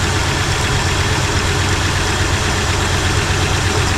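A 1960 Buick LeSabre's carbureted engine idles steadily, a continuous low rumble with an even, slightly rough texture, close and unbroken by talk.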